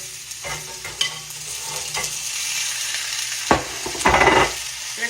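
Chicken gizzards fry slowly in a skillet turned down low, giving a steady close sizzle with light scraping and stirring clatter, a couple of louder bursts near the end.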